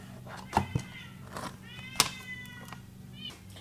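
Pet cats meow near a kitchen while waiting for fresh meat to be prepared, several clear, close meows with a short thunk near the start.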